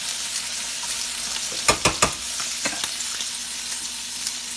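Mushrooms frying in a pan for a grits dish, a constant sizzle broken by a few sharp scrapes and taps of a utensil stirring near the middle, with no talk.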